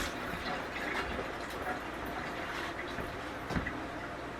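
Chicken broth is poured into the bottom of a Cosori air fryer oven pan, giving a soft, continuous trickle of liquid at close range, faint and steady, with a small clink near the end.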